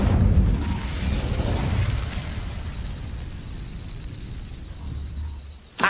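Incendio fire spell cast in the Hogwarts Legacy video game: a loud, rumbling, explosive whoosh of flame that starts strong and fades into a steady roar over several seconds, with no speech.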